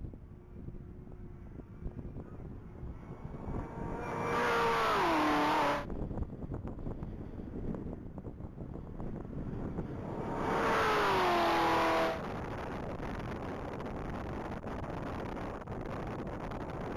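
A black 2021 Camaro ZL1 makes a top-speed run on a mile-long course, its engine note sweeping upward in two strong rising bursts as it passes, over steady wind noise between them.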